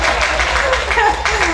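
Brief burst of audience clapping at a literacy festival with musicalized poetry, filling the space while a speaker's voice runs over it.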